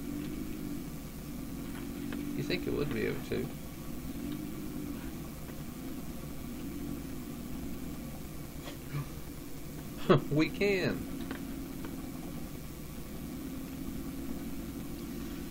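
A truck engine idles steadily in the Farming Simulator 17 game, a low continuous rumble running under the whole stretch while people talk over it in short bursts.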